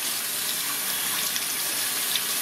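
Tap water runs steadily in a sink to rinse the disassembled parts of an LEM #8 meat grinder after grinding venison, a constant hissing gush with no talking.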